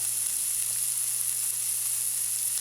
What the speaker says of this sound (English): Now we're just going to fry up this bacon for a snack